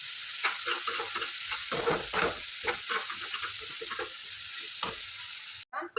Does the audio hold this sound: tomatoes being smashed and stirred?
yes